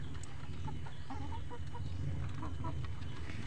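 White leghorn chickens cluck and chatter softly in a farmyard, several short calls scattered over a low rumbling background, faint and close.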